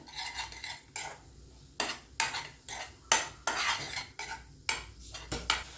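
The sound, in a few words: stirring grated coconut into melted jaggery in a pan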